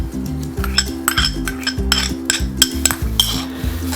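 Chopped onion being stirred into pumpkin raita with a spoon, a run of close, rhythmic clinks and scrapes against the bowl with no one talking.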